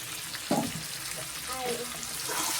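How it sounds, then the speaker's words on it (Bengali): Ginger and garlic fry in a pan for a Bengali chicken and potato curry, a steady broadband sizzle running throughout with a brief louder scrape or stir near the start and faint background voices. "আদা রসুনটা একটু ভাজা হয়ে যায়"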